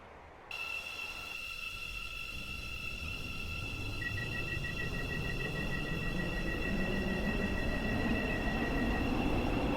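Electric train of a Stepford Connect service with five coaches in the Stepford County Railway video game, running with a steady traction hum and high whine tones that rise in at the start and hold evenly throughout.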